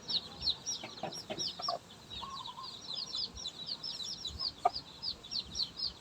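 Chicks in a cage during a chicken immunization session peep and cluck steadily in short, high repeated calls, fairly close, with occasional handling noises and no talk.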